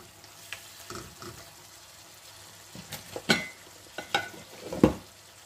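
Fish pieces, some with roe, dropped one by one into a pan of sizzling bean (shim) masala curry, giving a few sharp sizzling bursts and splashes over a low frying hiss, with no talk.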